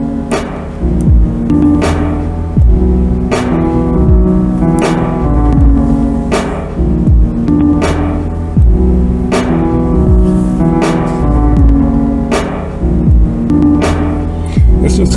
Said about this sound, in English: It's really just the kick and the snare and those two tones that you hear in the background.